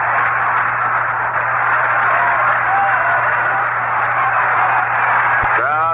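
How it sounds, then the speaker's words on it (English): A baseball crowd at a Tigers at Red Sox game applauds the pitcher, a steady wash of distant clapping and crowd noise running beneath a radio announcer's talk. "now clapping for the big right-hander"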